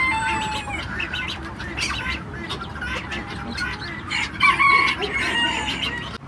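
Chickens in a mixed poultry coop cluck and call continuously, with a rooster crowing partway through, all close and busy over a dense farmyard background.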